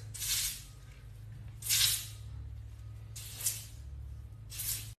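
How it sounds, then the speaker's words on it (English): Redken hair mousse sprays from a can into the roots of hair in four short hissing bursts, close and fairly loud, over a low steady hum. "you just spray the mousse,"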